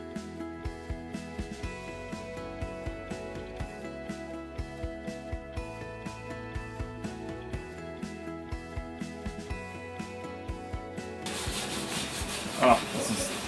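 A hand scraper shapes the wooden body of a custom electric guitar, giving a steady run of short rasping strokes at close range. Sustained tones sit underneath, and a brief louder bump comes near the end.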